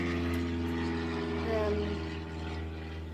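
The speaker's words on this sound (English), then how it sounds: "it's the same plane just going round" Propeller plane circling overhead, a steady droning hum with layered engine tones, moderately loud and sustained, with people talking over it.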